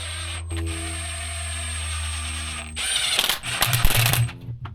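Bolting a blower back onto the straight-piped 8V71 diesel of a 1973 Freightliner cabover: a steady low hum runs throughout, then the last two seconds bring loud, choppy bursts of ratcheting power-tool clatter close by.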